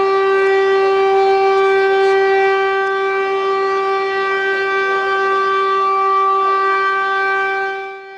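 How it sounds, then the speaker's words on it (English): A Cold War era French air raid siren sounding during a test, a loud sustained steady wail that holds one pitch for several seconds before fading at the end. "France has started testing their Cold War era air raid systems"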